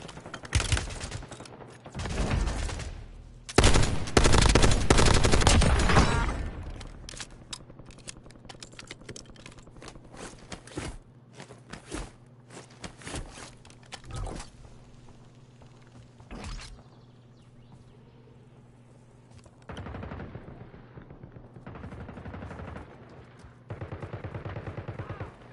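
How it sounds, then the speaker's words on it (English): Video game gunfire, with bursts of rapid shots early on, then scattered single cracks and short volleys through the rest, sometimes loud and sometimes distant. "Taking effective fire!"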